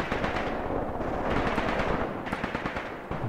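Mortar suppressive fire in the war game Graviteam Tactics makes a dense, continuous rumble of overlapping blasts and crackling impacts at a steady loud level, with sharper bursts late on.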